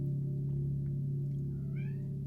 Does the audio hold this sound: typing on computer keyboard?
no